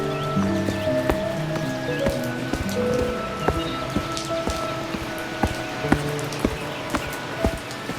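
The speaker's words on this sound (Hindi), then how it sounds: "बारिश अभी भी नहीं रुकी।" Rain patters on a poor village home in a Hindi cartoon, with scattered drip-like ticks over a sustained tonal background of music.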